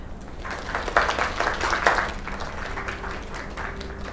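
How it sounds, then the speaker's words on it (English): Steady applause from a crowd, moderately faint and continuous, with a few louder bursts of clapping in the middle. "Another round of applause."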